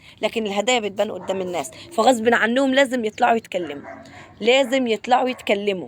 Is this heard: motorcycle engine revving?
no